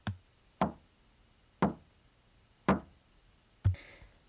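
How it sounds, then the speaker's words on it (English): Five sharp, separate knocks land at uneven intervals inside a quiet house, each a dull, resonant rap with a short decay, clear and fairly close with nothing else around them. "The sound of 3 taps echoed through the house"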